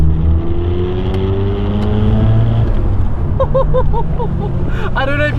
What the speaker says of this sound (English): I don't know if you guys can actually hear how good this rotary engine sounds.